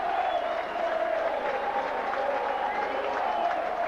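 Rugby league crowd at the Boulevard applauding and cheering a Hull try against Salford, a dense continuous roar of clapping and voices heard from within the stands, steady and sustained.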